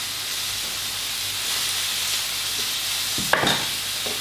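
Wild mushrooms with garlic fry in a pan over high heat, giving a steady close sizzle and hiss, with a brief clatter of stirring near the end; no one speaks.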